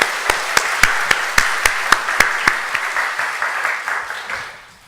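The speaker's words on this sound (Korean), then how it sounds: "박수 한번 쳐주시기 바랍니다" Church members at a Korean afternoon worship service give a round of applause: sharp rhythmic unison claps at a steady beat over a softer bed of scattered clapping, fading toward the end.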